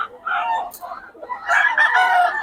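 A Boston Sweater bloodline gamefowl rooster crows in two bursts, close and loud, with a voice faintly mixed in.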